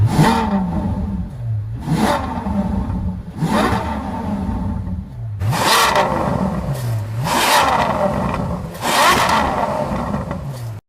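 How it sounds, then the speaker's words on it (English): A V12 Ferrari FF revs repeatedly, its exhaust rising in loud, near bursts over a steady idle, several sharp climbs and drops in pitch with no talking. "this is what this V12 Ferrari FF sounds like"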